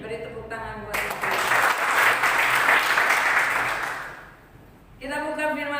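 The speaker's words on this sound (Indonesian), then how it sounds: "Beri tepuk tangan buat Tuhan" A church congregation at a Sunday worship service bursts into applause, a dense, steady clapping lasting a few seconds that tapers off, with a speaker talking just before and after it.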